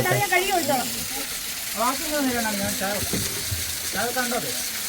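Oil frying in a pan with curry leaves, a steady close hiss and sizzle running throughout while voices talk over it.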